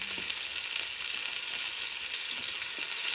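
Ground beef and aromatics sizzle over high heat in a cast iron pan, a steady, dense, crackling hiss with no break and no talk.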